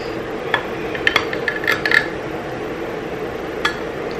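Cutting a small corner out of apple butter baked oatmeal in a dish: a few light metallic clinks and scrapes of a utensil against the pan, close and brief, scattered over a quiet room with no talking.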